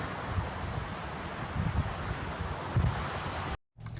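Steady, loud wind buffeting the microphone on the Mogollon Rim, Arizona, a constant roaring rush with gusty swells, briefly cutting out near the end.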